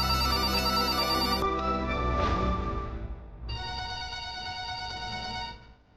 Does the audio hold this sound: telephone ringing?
yes